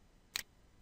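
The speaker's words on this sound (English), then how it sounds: "Just hitting tab as I highlight" A single crisp, quiet click of the tab key being pressed on a computer keyboard, alone against near silence.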